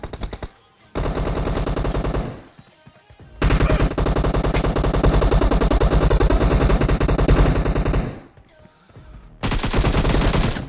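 Bursts of rapid automatic gunfire from the PUBG video game, loud and dense, in three long volleys separated by short quiet gaps.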